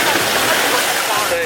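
Water draining from a lotus pond through a pipe, a loud, steady rushing gush like a small waterfall, with a voice talking over it.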